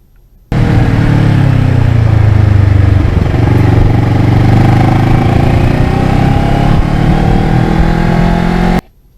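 A motorcycle engine revving loud and close, rising and falling in pitch as it is worked up through the gears, starting abruptly and cutting off near the end, no voices.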